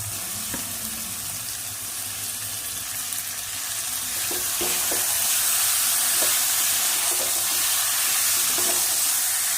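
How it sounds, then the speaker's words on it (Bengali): Chicken going into cooked spice paste in hot oil for chicken kasha, with a steady hiss and sizzle that grows louder partway through, plus faint scattered clicks of stirring. "এবারে আমি এর মধ্যে চিকেন দিয়ে দেবো।"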